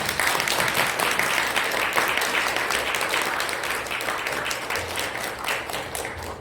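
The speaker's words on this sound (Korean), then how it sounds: "우리 박수로 환영하겠습니다." A church congregation at a Sunday worship service applauds to welcome the pastor to the pulpit, with dense, steady clapping throughout that fades slightly toward the end.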